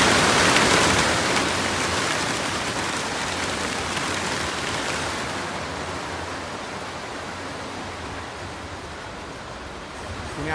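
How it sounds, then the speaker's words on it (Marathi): Heavy monsoon rain falls around Lonavala near the Mumbai–Pune expressway as a dense, continuous roar that is loudest at the start and eases only slightly over ten seconds. "मावळमध्ये जोरदार पाऊस आहे।"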